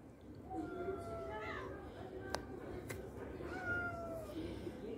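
Several cats meow at evening feeding time outdoors, with thin rising and falling cries repeating over steady background noise and someone speaking Turkish in the background.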